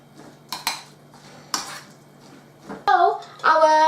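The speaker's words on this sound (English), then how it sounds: "We're going to give that a mix now." Dumpling filling is being stirred in a bowl with a utensil: sharp clinks and scrapes against the dish come in separate bursts, followed at the end by brief louder clattering and squeaks, with a quiet background hum.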